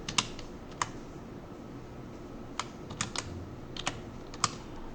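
Quiet taps on a computer keyboard while entering an Excel formula, scattered keystrokes in short bursts over a low room hum, close and without speech.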